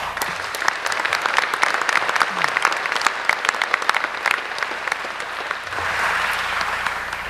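A crowd at a 2013 mayoral debate breaks into sustained applause, dense clapping with scattered louder claps close by, continuing steadily before thinning slightly near the end.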